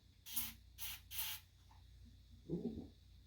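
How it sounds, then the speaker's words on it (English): Three quick hissing bursts of a continuous-spray face mist sprayer in a row, close and bright, followed by a softer rustle near the end. "This is a continuous spraying sprayer, face sprayer."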